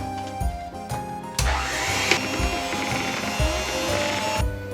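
A kitchen mixer beats cake cream for a drunken-cherry cake, its motor whirring steadily with intermittent knocks and scrapes against the bowl, loud and close with no talking.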